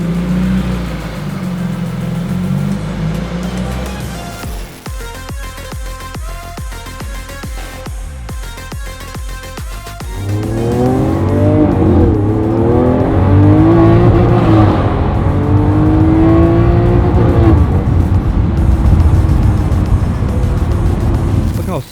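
A powerful Lotus engine, tuned to around 750 hp, revs loud and close. A harsh idle drops to a choppy, lumpy burble, then it surges back up into sustained high revs.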